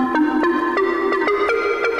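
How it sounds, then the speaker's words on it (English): Simple synth pluck patch from the Phase Plant synthesizer, with a quick repeating pattern of bright, short plucked notes at an even rhythm, close and clear with no other sounds. "we are going to take a simple pluck, kind of like this"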